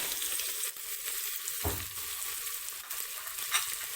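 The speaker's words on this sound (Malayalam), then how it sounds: "വെളിച്ചെണ്ണ ചൂടായി വരുമ്പോഴേക്കും നമ്മൾ കട്ട് ചെയ്ത് വെച്ചിട്ടുള്ള 3 സവാള ചേർത്ത് കൊടുക്കാം" Three onions frying in hot coconut oil, a loud continuous sizzle close by with a brief stirring thump partway through.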